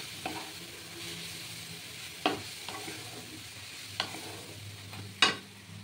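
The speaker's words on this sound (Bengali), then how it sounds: "এটা দিয়ে আমি সুন্দর করে ভাজা ভাজা করব।" Spices and sugar stir-fried in a pan over a low flame: a quiet continuous sizzle broken by several sharp scraping strokes of a spatula, close by, with no voices.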